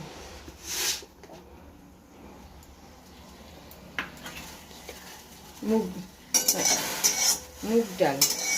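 Moong dal is dry-fried in a pan with a spoon scraping and stirring it, giving soft rustling and a faint sizzle that build into louder, clattering strokes near the end while a voice speaks at times.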